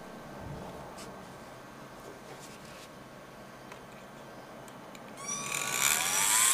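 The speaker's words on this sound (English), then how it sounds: "The Orbitool cutter is mounted in a cordless grinder." A cordless grinder fitted with an Orbitool cutter deburring intersecting cross-holes; after a quiet stretch of faint background, a loud high-pitched whine with rising and falling tones starts near the end and stays close and steady.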